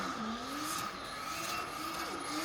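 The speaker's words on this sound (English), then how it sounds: "it's a great burnout" Sustained roar of a car doing a burnout at a burnout competition, engine held at high revs with a steady whine and tire noise running continuously and loudly throughout.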